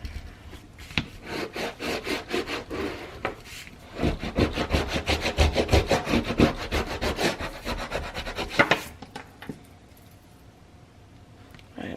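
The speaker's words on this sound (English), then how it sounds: "Now I'm going to burnish all that tape down." Tape being burnished down onto a book cover, a steady series of close, dry rubbing strokes that pause briefly and resume before trailing off into quiet near the end.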